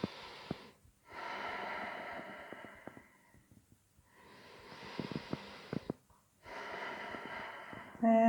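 Slow, deep breaths during a yoga pose: long audible inhales and exhales in near, quiet cycles separated by brief pauses, with small clicks and rustles.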